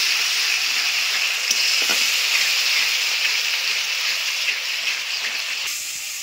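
Spice paste with two medium ground tomatoes sautéing in hot oil for a Bengali rui posto fish curry, a steady close sizzle with occasional stirring scrapes and no talk.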